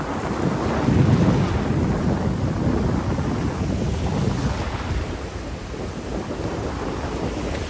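Sea waves at a beach by a resort, a steady broadband wash of surf with wind buffeting the microphone, swelling louder around the first second and rolling on continuously without talk.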